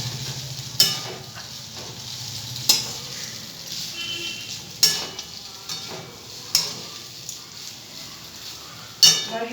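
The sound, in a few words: stirring carrots frying in a pan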